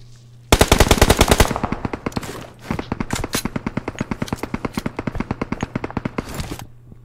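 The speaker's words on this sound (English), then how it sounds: "I'm shooting from every angle." Rapid automatic gunfire in the mobile battle royale shooter PUBG Mobile, a loud sustained burst followed by steady repeated shots over several seconds, close and dominant with no talking.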